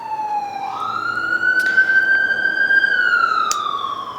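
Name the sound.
emergency vehicle sirens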